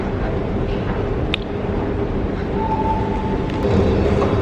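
A metro train at a station rumbles loudly and steadily, a broad continuous roar with a faint tonal whine and a few sharp clanks, no talking.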